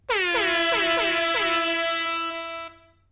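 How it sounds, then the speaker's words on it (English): A loud air horn blares in rapid repeated blasts, the tones sliding down in pitch, before stopping abruptly. "Air horns for not the asshole."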